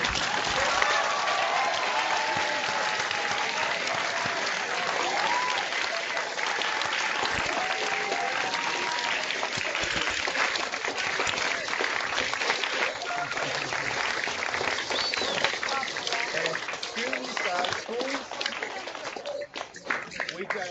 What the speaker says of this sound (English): Students, let's unmute your microphones. Give them a round of applause, please.